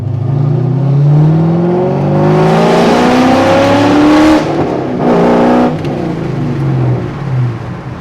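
A C5 Corvette fitted with Speed Engineering long tube headers and an X-pipe accelerates loudly through the gears, its exhaust roaring and rising in pitch, then briefly shifting and easing off, heard from close range.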